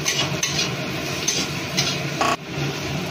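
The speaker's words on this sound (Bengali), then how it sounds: "দিয়ে এবার ভালো করে তিনটাকে একসাথে ভাজবো" Capsicum pieces stirred and fried together in a pan, with a steady broadband hiss and light metallic clinks and scrapes of a utensil against the pan throughout.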